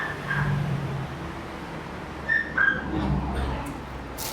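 Dogs in a pet shop in Taipei give a few short yips and whimpers over busy street ambience, the barks brief and moderately close against a steady background hum.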